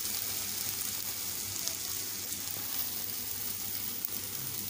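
Tomatoes fry in oil in a pan for an aloo tamatar potato and tomato gravy, giving a steady, dense sizzle that is close and even throughout, with no talk.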